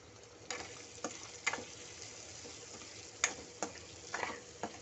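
Potato curry seasoned with salt and turmeric is stirred in a pan, making a soft sizzle under a row of sharp scrapes and taps from the spoon, spaced at uneven intervals.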